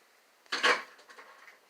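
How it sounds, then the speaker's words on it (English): A plastic lid is set onto a blender jar holding water and green-drink ingredients, one short clattering knock followed by a few faint fumbling taps in a quiet kitchen. "We're going to put that top on and come over here to the blender."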